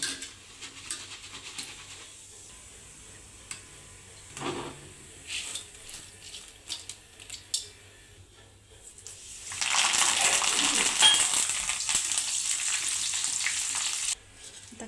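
Chana dal and curry leaves roast in a hot pan, at first with scattered light clatter and stirring, then a steady, loud broadband sizzle that holds for about four seconds before cutting off.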